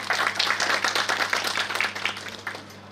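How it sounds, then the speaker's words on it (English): Audience at a university youth festival claps for two guests being welcomed on stage, a dense run of hand claps filling the room steadily and fading slightly toward the end, with no talk over it. "Please we have a round of applause for them."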